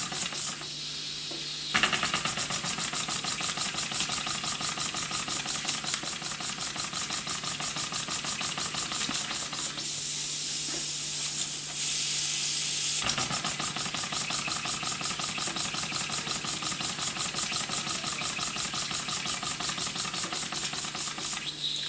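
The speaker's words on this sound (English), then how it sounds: "Needs to build this steam up a lot more." A model steam engine kit runs while building up steam, giving a loud, continuous, rapid mechanical chuffing and hiss with a steady pulsing rhythm throughout, its tone shifting briefly midway.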